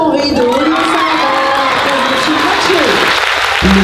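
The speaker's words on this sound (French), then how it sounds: "Je vous demande d'applaudir la classe de 6e B de" A crowd applauds a school class at a prize ceremony for a young writers' competition, dense clapping steady and loud across the room, with a few cheers and voices mixed in before it suddenly cuts.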